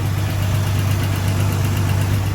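A car engine idles smoothly at close range, a steady, even low rumble with a constant hum and no breaks.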